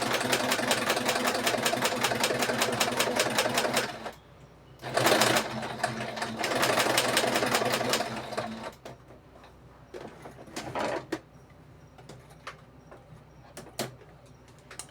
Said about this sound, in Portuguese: eu costurei só um pedacinho aqui em cima, tá?